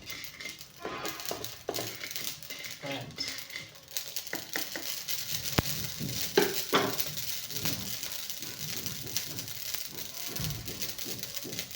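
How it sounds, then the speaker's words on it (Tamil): Mustard seeds spluttering and frying in hot oil in a deep pan, a steady crackling patter with scattered sharp pops throughout. "சட்டி வந்து குழியாக இருக்கிறதுனால உங்களுக்கு இதில் வறுக்கிறதும் உள்ள செடியறதும் சத்தம் கேட்கும்"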